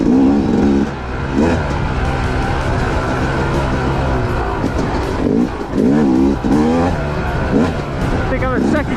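Yamaha YZ250X two-stroke dirt bike with a GYTR flywheel, lugging in low second gear on a trail, its engine droning steadily and close with a few rises in pitch, under a rider's occasional talk and wind rumble.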